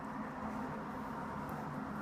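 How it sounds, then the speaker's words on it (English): Steady wash of passing car traffic, a soft continuous road hiss with no distinct single vehicle standing out, heard alone at low level. "Listening to the cars drive by."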